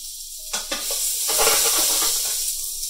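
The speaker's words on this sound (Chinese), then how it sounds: "我哋将啲洋葱先放落去，炒软佢" Onions hit hot oil with browned garlic in a wok and sizzle loudly and steadily, with a few scraping clacks of a spatula stirring them close up.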